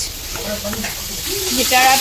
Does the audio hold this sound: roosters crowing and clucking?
no